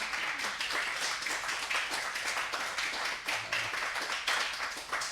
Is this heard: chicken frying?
no